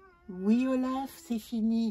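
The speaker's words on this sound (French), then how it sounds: "C'est mon chat qui me sonne le gong de la fin." A pet cat named Olaf meows in a long drawn-out cry followed by two shorter meows, close and clear, with someone speaking briefly alongside.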